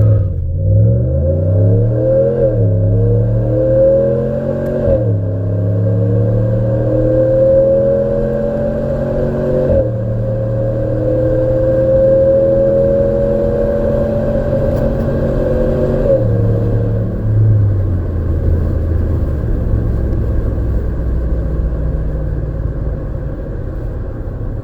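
2019 Ram 1500 pickup with a 5.7 HEMI V8 and MR 300 muffler delete accelerating hard through several gear shifts, a loud, close, rising engine roar that drops at each shift before settling.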